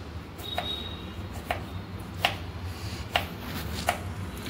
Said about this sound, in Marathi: त्यासाठी आपल्याला खोबऱ्याचे बारीक तुकडे करायचे